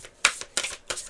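Tarot cards are shuffled by hand in three quick riffling bursts evenly spaced, crisp and close, with no talking.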